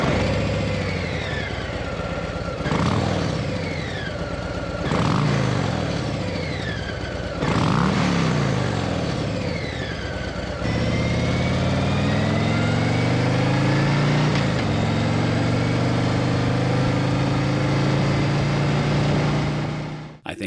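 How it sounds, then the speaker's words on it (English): A 2025 Harley-Davidson Breakout motorcycle engine with stock exhaust, loud and close: three sharp revs rise and fall before it settles into a steady, deep rumbling idle that carries through to the end. "No one wants a quiet Harley Davidson. So how does the bike sound stock?"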